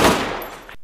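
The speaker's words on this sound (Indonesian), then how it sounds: "Sally pun mendengar suara tembakan" Gunfire erupts in a film scene of a terrorist attack: a sharp, loud burst of shots that decays quickly and then cuts to sudden silence.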